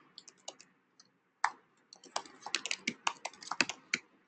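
Code being typed on a computer keyboard, a quiet stretch of scattered single keystrokes building into a quick, close run of crisp key clicks, with no talk.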